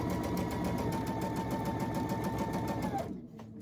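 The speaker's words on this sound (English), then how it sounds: "I'm going to backstitch over top of that twine just to hold it in place." A sewing machine backstitches over twine while finishing a tiny-town wooden spool piece, running in a steady, close, loud mechanical whir before stopping abruptly near the end.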